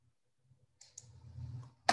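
Computer mouse right-click while working in Excel, a single sharp close click at the end, after a soft, faint rustle.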